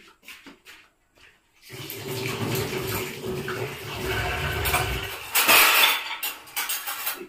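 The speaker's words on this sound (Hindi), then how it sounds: "मैं इसको मैं हाथ धो दूंगी" Water runs from a tap in a home kitchen as hands are washed, a steady close splashing rush that swells louder near the end, after a short quiet start with faint clinks.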